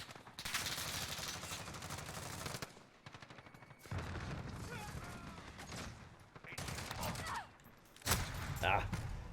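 Bursts of automatic fire from an SA87 rifle in a first-person shooter game ring out in several separate volleys with short pauses between, loud and rapid, with occasional other game sounds.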